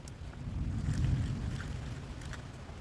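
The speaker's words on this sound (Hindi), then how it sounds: "हवा चल रहा गाइस जोर जोर से।" Strong wind gusting through a village woodland with leaves shaking, a loud rushing low roar and buffeting that swells near the middle and holds steady, with no talking.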